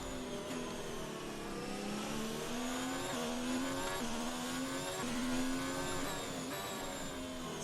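An F1 car engine in F1 2019 at the Hungary circuit, with a high, loud whine that wavers up and down as the throttle is feathered, running continuously for several seconds.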